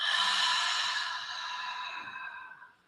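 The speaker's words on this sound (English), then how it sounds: "Now deep inhale through your nose. Second inhale and then exhale." A single long, breathy exhale during deep breathwork, close and soft, trailing off gradually into quiet.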